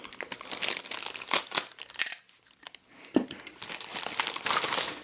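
Close crinkling and tearing of packaging as it is cut open to unbox a Notifier BNG-1-TS fire alarm pull station, in irregular bursts with a short quiet gap midway.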